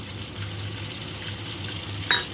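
A paste of Kashmiri chilli, turmeric and salt mixed in water fries in a pan, with a low, steady sizzle and a single sharp utensil clink near the end.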